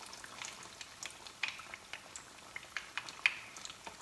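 Alcapurrias fry in hot oil with a soft, steady crackle and scattered sharper pops and spits, quiet and close.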